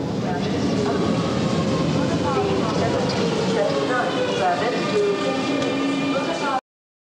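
A splitter train sits at a station platform, its rumble and rail noise constant and fairly loud, with voices talking over it before everything cuts off abruptly.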